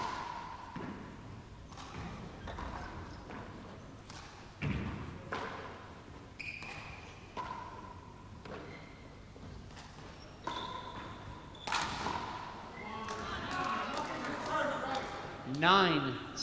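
A handball ball thuds against the court walls during a 1988 handball final between Irish and American players, giving irregular sharp thumps and slaps over a long rally with faint background voices.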